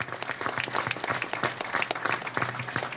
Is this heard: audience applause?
yes